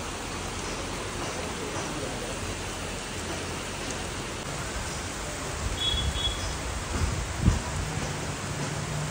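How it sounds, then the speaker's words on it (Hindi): Heavy rain pours down in a steady, dense hiss, with a few low thumps near the end. "बारिश आ रही है बहुत तेज"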